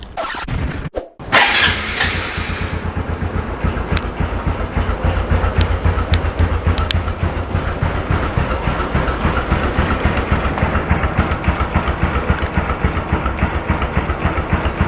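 A motorcycle engine with stock exhaust starts up with a brief sputter, then settles into a loud, steady idle with a fast, even chugging pulse.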